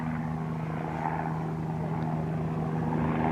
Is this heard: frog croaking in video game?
no